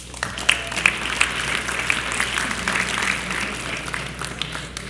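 Steady audience applause at a high school candidates forum, many hands clapping continuously for several seconds at a moderate distance, with no speech over it.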